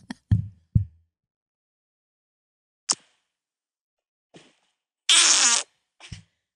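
Short comedic fart sound effects: several brief low plops and pops scattered with gaps, then one longer buzzy, trumpet-like blast near the end followed by a small final puff, loud and close with no talking.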